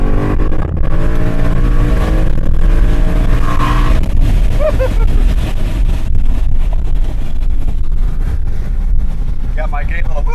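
Supercharged Gen3 Mustang fitted with an ESS G2 kit pulling hard under acceleration, a loud steady engine roar with a brief whooshing wastegate note rising near the middle and wind noise throughout.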